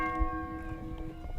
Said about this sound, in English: a bell is tolled